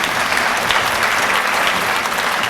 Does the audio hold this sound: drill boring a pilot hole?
no